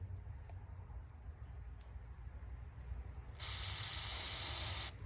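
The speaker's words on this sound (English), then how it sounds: "And then we'll open this up and we'll blow through it this way." Compressed air blasts through a passage of a Rochester 2-Jet carburetor from a 1973 Pontiac Ventura, a loud steady hiss starting abruptly after a quiet workshop stretch and cutting off sharply near the end.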